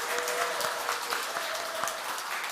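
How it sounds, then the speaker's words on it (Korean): Dense, steady applause from a congregation at a Won Buddhist Sunday service in Korea, welcoming the preacher to the pulpit; continuous clapping fills the room at an even level throughout. "우리의 스타 김일한 교무님을 큰 박수로 맞이하겠습니다"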